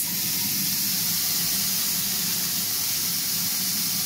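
Chorizo mushroom dogs frying in a pan, a steady, close, even sizzle and hiss with no break, alone without talk.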